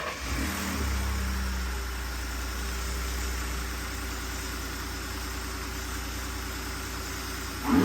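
A Ford F150 pickup truck engine with a K&N Aircharger intake idles and revs steadily, with a constant low rumble and a rushing whoosh of air drawn into the intake.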